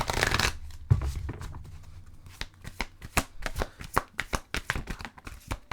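Oracle cards are shuffled by hand for a tarot reading. A rapid riffle comes first, then a steady run of crisp, papery card slaps and flicks repeats close up. No one speaks.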